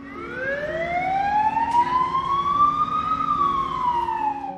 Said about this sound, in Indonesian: ambulan pun tiba